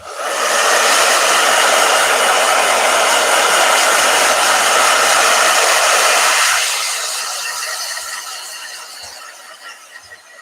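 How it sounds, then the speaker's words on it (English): Handheld blow dryer running loudly and close for about six seconds with a steady whooshing roar, then switching off and winding down into quiet with a few faint clicks. "Blow dryer."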